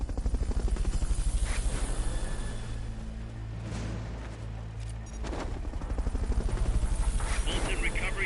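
Helicopter in Metal Gear Solid: Peace Walker: a loud, steady rotor drone with a deep throbbing hum runs throughout, with brief sharper bursts breaking in along the way.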